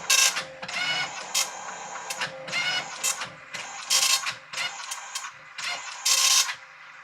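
A Commodore MPS 1230 dot-matrix printer prints in loud buzzing bursts as the print head sweeps back and forth, with brief pauses and mechanical clicks between lines.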